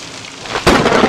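A thunder crack with a lightning strike in the horror video game Nun Massacre, arriving as a sudden loud burst over a steady rain-like hiss that continues afterward.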